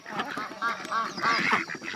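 A group of ducks quacks busily while being fed outdoors, the calls overlapping and continuous, close and fairly loud, with a person's voice faintly mixed in.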